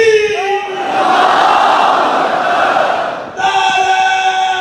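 At a Muharram majlis at an imambargah on Wahdat Road, Lahore, a large crowd shouts a religious slogan in unison, a loud sustained roar following a single leading voice's call, with the leader's voice returning at the end.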